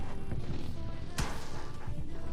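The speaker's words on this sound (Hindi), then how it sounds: "कहीं दूर से गोलियां पड़ने लगती है मेरे को" Gunfire in PUBG Lite comes from far off, with one sharp crack standing out midway over a steady, busy in-game background during a solo-versus-squad match.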